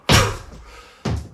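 A foot drops hard onto the floor during a Yiquan kick combination, giving two close, loud thuds about a second apart with no talking.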